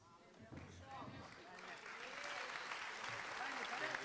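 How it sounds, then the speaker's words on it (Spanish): A crowd at a book fair event breaks into applause for a speaker, starting under his voice and swelling into loud, sustained clapping by the end. "No me aplauda, ahora."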